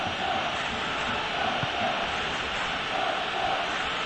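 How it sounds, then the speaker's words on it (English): A stadium crowd in eFootball PES 21 during a Barcelona vs Real Madrid El Clasico, a steady broad roar with faint swells of noise, continuous and moderately loud. "the crowd are reacting to that now"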